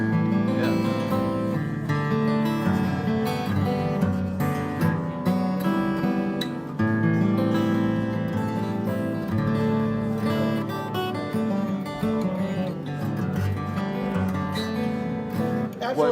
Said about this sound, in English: an all walnut guitar does not sound like this does